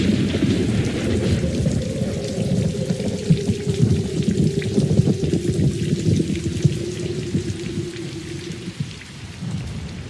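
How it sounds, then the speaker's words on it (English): Steady heavy rain pours on a stormy night, with a deep rolling thunder rumble running under the dense hiss throughout. "For tonight, stormy weather was guaranteed."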